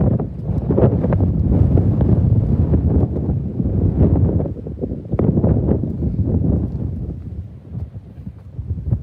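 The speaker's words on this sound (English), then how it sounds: "a bit more wind here because we are a little elevated" Wind gusting around an elevated college chapel and buffeting the microphone in a loud, continuous roar that dips briefly, with no speech.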